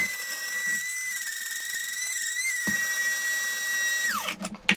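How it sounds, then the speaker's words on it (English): An electric spice grinder blends roasted garam masala spices with a steady, high, whining hum held close for several seconds, which then winds down as the motor stops with a few rattles. "I'm going to blend them in my trusty spice grinder"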